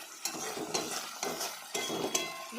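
Chicken sautés in a pan with no water added, the sizzle rising in four or five rhythmic bursts as it is stirred, each sweep sharp and close.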